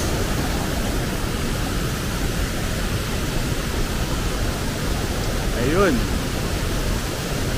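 Talay Falls pours down as a steady, loud roar of rushing water that fills the scene from start to finish, with a brief spoken word near the end.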